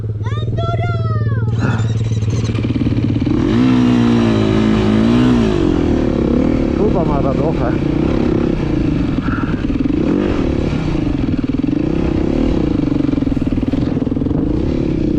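An enduro motorcycle engine drones and revs loudly and close on an off-road special stage, rising and falling in pitch throughout, with a voice briefly audible near the start.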